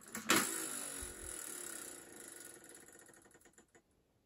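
A Game of Life board game spinner is flicked and ratchets through a fast burst of clicks that slows and thins into separate ticks before stopping, close and fairly quiet.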